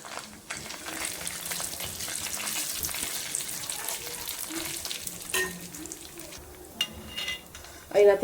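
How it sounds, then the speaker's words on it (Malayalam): Whole spices fry in hot oil reused from earlier frying, giving a soft continuous sizzle with a few sharper crackles and clinks near the end. "ആ എണ്ണയിലേക്ക് ഞാനിപ്പോൾ ഈ മസാല ഒക്കെ കൂടിയാണ്ട് ഇടാൻ പോകും"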